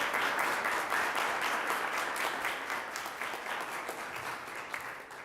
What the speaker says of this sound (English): I ask a very sound round of applause